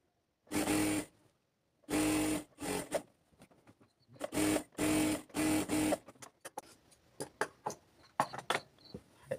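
A sewing machine stitches the side seam of palazzo pants in short whirring bursts of a second or less, repeated with gaps, followed by lighter rustling and handling clicks.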